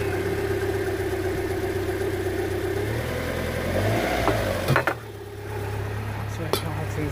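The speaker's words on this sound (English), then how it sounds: "I'm going to put the RPMs up" The 1.8 petrol engine of a Land Rover Freelander with a rough idle runs close by, its steady hum rising as the revs climb, then dropping back with a clunk and a couple of sharp knocks.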